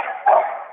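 A dog gives a single short bark or yelp, fairly close, in a quiet room with no speech.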